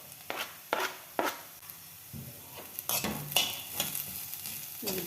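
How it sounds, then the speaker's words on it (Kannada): Chopped curry leaves, onion and coriander go into a frying pan for a home-style fried beans curry, with a run of spatula scrapes and clinks over a low sizzle, close and fairly quiet. "ಕರಿಬೇವು ಕಟ್ ಮಾಡಿರೋವಂಥದ್ದು ಹಾಕ್ತಾಯಿದ್ದೀನಿ."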